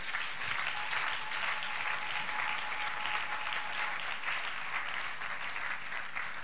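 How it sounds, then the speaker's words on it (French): A church congregation claps together in steady, sustained applause, a dense even patter of many hands that holds at a constant level throughout with no break. "Est-ce qu'on peut acclamer pour la gloire de Dieu?"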